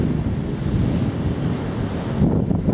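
Strong wind of about 20 knots roars steadily across a concrete seawall by the sea, buffeting the microphone in a dense, unbroken rumble with a hint of surf beneath.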